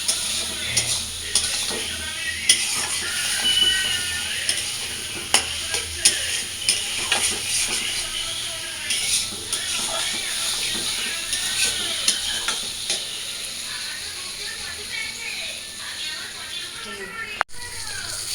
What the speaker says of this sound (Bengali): তো মশলাটা দিয়ে ভালো করে আমি একটু কষাই নিই